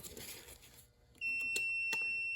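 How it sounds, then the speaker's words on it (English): Multimeter beeping while testing the wiring of a Datsun 240Z: after some quiet handling noise, a steady high electronic tone switches on and holds to the end. "and you can hear the beep"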